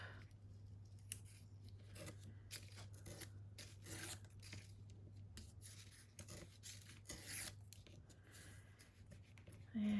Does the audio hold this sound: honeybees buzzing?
no